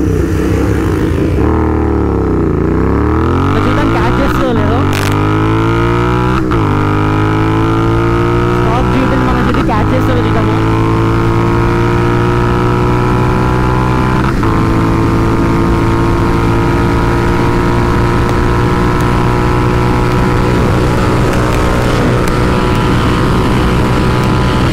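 Royal Enfield GT650 motorcycles, one tuned and one stock, rev hard in a drag race, a loud close roar climbing through several gear shifts with rising engine pitch, captured on a riding camera with steady wind noise.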